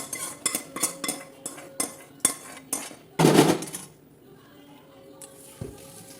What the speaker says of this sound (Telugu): ఈ చల్లారిపోయింది మిక్సీలో వేసేసుకోవాలి. మొత్తం అన్నీ కలిపి వేసేసుకోవాలి.